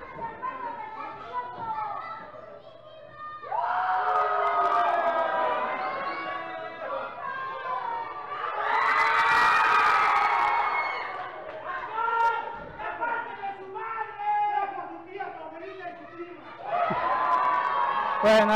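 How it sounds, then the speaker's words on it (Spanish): A lively crowd at an anniversary wrestling show shouts and cheers in waves, loud and close, with high-pitched voices rising in bursts between quieter stretches. "Guardamos silencio para que ustedes fueran testigos y escucharan el ambiente que se está viviendo en el Halcón Galáctico esta tarde."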